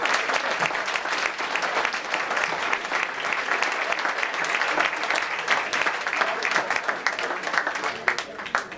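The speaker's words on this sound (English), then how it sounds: "did you think you were going to get applause like that?" Sustained audience applause at an evening community forum on Shaker Square, dense clapping from a large room that holds steady for several seconds before tapering near the end.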